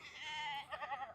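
A baby Kiko goat bleats close by, one long wavering cry followed by a few quick shorter pulses, loud and clear against a quiet background.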